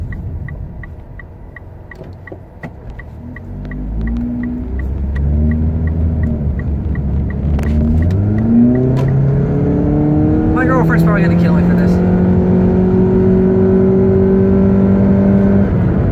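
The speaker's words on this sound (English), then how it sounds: "you can probably hear my engine revving up like crazy" A Jeep engine revs up loudly, its pitch rising in repeated climbing steps through the gears, with someone talking over it early on.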